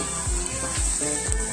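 Tempering of garlic, chana dal, urad dal, mustard seeds, cumin, curry leaves and dried red chillies in hot oil, a steady close sizzle broken by three soft stirring knocks, with no talk.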